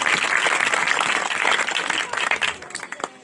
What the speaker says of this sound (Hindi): जोर से ताली बजाते